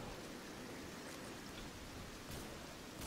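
Steady, dense rain pours down in a video game set on bloody moors, a constant hissing wash of drops with no pauses, moderately loud and close, with no talking over it.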